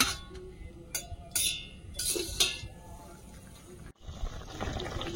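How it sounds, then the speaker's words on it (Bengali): Water is poured into a pan of simmering fish curry, a close liquid splash and trickle mixed with a few clinks of a utensil against the pan, fairly quiet, with brief talk. "জল দিয়ে দেবো।"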